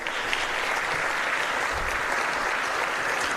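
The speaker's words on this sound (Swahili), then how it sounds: "tupige makofi mengi tunapomkaribisha mgeni rasmi ndani ya ukumbi huu" A hall audience at the Future Ready Summit 2024 claps steadily and densely to welcome the guest of honour, a close, even wash of applause lasting throughout with no break.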